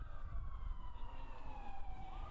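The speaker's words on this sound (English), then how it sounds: "You could hear the sounds of the ambulance in the background" Ambulance siren wailing in the background near a soccer match, a steady falling tone sweeping slowly downward over low crowd and traffic rumble, moderately distant and continuous.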